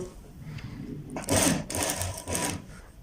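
Sewing machine stitching pieces of a kurta together in short bursts, with a loud run of stitching in the middle followed by two more runs of stitching.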